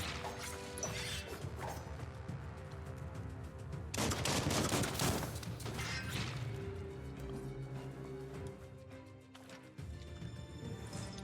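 Rapid bursts of gunfire from the video game Biomutant crackle through a busy mix of impacts, crashes and game effects, with a heavy loud barrage mid-way and scattered shots around it.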